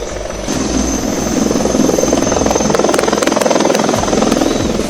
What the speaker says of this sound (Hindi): आसमान में हेलीकॉप्टर निगरानी कर रहे हैं।